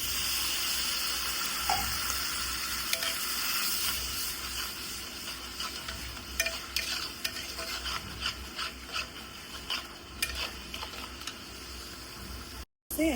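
Water poured into a cooking pot of fried dried fish (shutki) and onions with turmeric, chili and salt, a steady running splash lasting throughout with faint kitchen clatter, cut off near the end.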